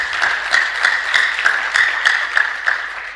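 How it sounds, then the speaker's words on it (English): Applause rises at a pharmacy scientific conference as logos are unveiled, a steady patter of clapping hands under a persistent tonal hum from the room's sound system, evenly paced and moderately loud. "Can you clap for this?"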